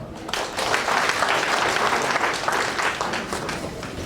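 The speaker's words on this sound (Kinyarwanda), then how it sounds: "tubaha amashyi" An audience claps steadily at a hospital opening ceremony in Maramvya, a dense, even round of applause that holds for about four seconds.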